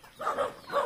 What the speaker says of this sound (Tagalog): ang daming aso rito